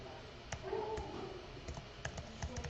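Typing on a computer keyboard, with a scatter of faint clicking keystrokes in an irregular rhythm over a quiet room hum, close but soft.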